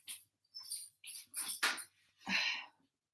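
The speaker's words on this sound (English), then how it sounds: "the dogs start going crazy" Dogs barking in short, loud bursts indoors, several barks clustered over a few seconds with brief gaps between them.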